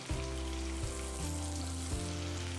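Sliced long onions fry in a spoonful or two of oil, giving a steady close sizzle and crackle with a few brief stirring shifts, no voices over it.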